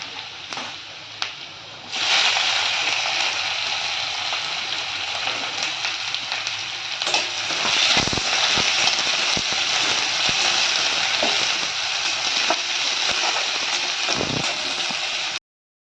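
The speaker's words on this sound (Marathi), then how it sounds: "कांदा भाजून झालेला आहे चांगला." Chopped onion frying in a pan for a capsicum bhaji, a steady hiss and sizzle of oil that swells after a quiet start and stays loud, with occasional stirring knocks.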